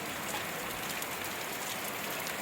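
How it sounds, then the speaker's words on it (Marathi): Heavy rain pours down at night over farmland, a steady dense hiss of drops with no break, no voices, close and even throughout. "असं पाऊस चालू आहे एकदम जोरात"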